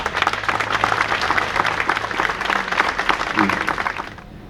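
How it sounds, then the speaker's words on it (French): An audience at a Paris neighbourhood gathering claps loudly and densely for a few seconds before the applause tapers off, with some voices mixed in. "Je propose d'applaudir parce qu'elle a fait un énorme boulot"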